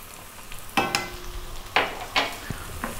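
Fresh ginger-garlic paste frying in a hot pan of vegetable curry base with fresh chili, above medium heat: a steady soft sizzle broken by several sharp stirring scrapes and spatula clatters, close and without talk.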